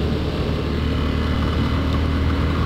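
A motorcycle engine running on the road, a steady broadband drone with a constant low hum and wind rush, close and even throughout, no voices.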